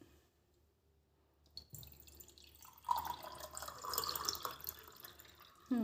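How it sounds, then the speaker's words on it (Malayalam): Tap water running into a vessel in a home kitchen during lunch cooking, starting softly after a quiet stretch and growing into a steady close splashing flow. "കുറച്ച് വെള്ളം എടുക്കുന്നു."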